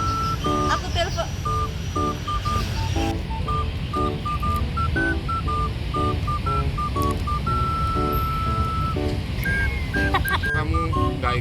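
A rapid run of electronic keypad tones, short beeps stepping between pitches, followed by a longer steady tone and a few more beeps, close and loud.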